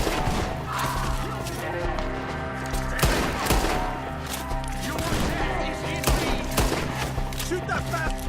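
Gunfire in Red Dead Redemption 2 during a shootout at a tree, with repeated sharp shots and bursts spread steadily across the scene over a dense layer of game sound and voices.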